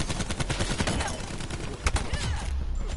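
Gunfire through a wall in Call of Duty Black Ops 4: rapid automatic shots rattle steadily, with a louder crack near the end, and a voice is faintly present underneath.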